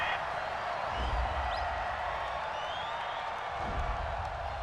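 A stadium crowd at a Green Bay Packers versus Chicago Bears NFL game roars with a sustained mass of voices after a penalty flag, broad and distant, with faint whistles and no clear speech.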